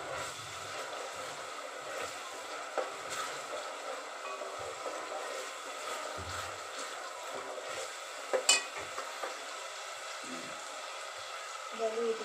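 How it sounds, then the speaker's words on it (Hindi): Ginger and garlic paste frying in a pan while being stirred, a soft, fairly quiet sizzle under irregular scraping and stirring strokes, with a few sharper utensil knocks toward the end. "ये देखिए अभी ये हमारा थोड़ा अदरक लहसुन का पेस्ट भून गया है थोड़ा"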